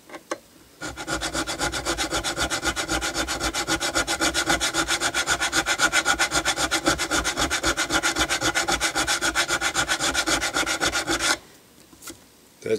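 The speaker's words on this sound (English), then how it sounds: "First was 150 grit, now we're going with the 300 grit." Guitar frets on a Jackson guitar sanded with 300 grit sandpaper give a steady, loud, close rasping scrub in rapid back-and-forth strokes for about ten seconds, then it stops abruptly.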